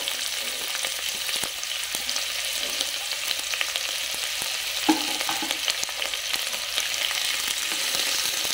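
Onion with green chilli softening in a pan, a bright, even hiss of frying oil throughout with faint stirring clicks and one louder clatter midway, no speech.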